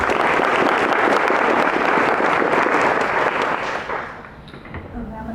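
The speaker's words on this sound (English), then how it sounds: "So please give her a round of applause." Audience applause for a speaker taking the stage, loud dense clapping that holds steady for several seconds, then thins out and fades as the room quiets.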